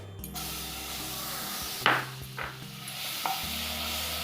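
Two spoons of butter melting on a hot tawa for tawa pulao, a quiet sizzle broken by a few spatula scrapes and knocks, with a low hum running underneath and no talk.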